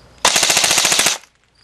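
A Code-8 PTW airsoft gun fires a rapid full-auto burst of about a second through a chronograph, evenly spaced loud cracks in a tight mechanical rhythm, then it stops cleanly to near silence.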